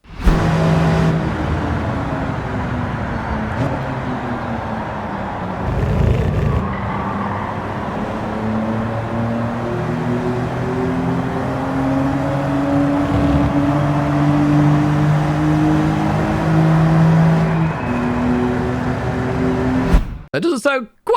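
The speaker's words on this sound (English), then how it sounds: "Let's have a listen to it out on circuit." A BMW racing around a circuit in Gran Turismo, with a loud, sustained engine note that climbs and shifts through the gears. Someone talks over it.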